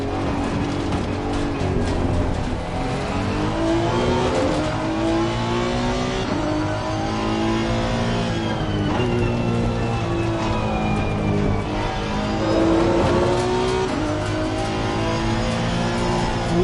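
A race car engine in Assetto Corsa Competizione revs and shifts continuously through a race, rising and falling in pitch with upshifts and braking, loud and without voices.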